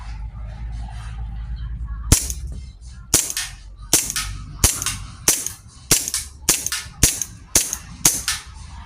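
A We M92 airsoft BB pistol fires about ten sharp, loud shots close by, spaced roughly a second apart, each a crisp snapping crack over quiet background.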